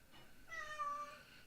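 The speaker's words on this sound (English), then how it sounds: "Oh, my cat. Don't know if you guys can hear him." A pet cat gives a single faint, drawn-out meow against a quiet room background.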